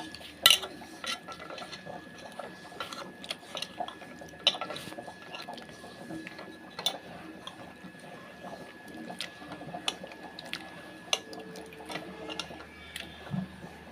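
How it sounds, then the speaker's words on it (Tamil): Water is poured into flour in a cooking vessel and stirred into a batter for a Tamil home recipe. Soft liquid sloshing comes with scattered clinks and scrapes of a utensil against the pot, close and fairly quiet. "இப்போ வந்து தண்ணி சேர்த்துக்கிறேன் தண்ணி சேர்த்துட்டு நல்லா மிக்ஸ் பண்ணிட்டுருக்கலாம்"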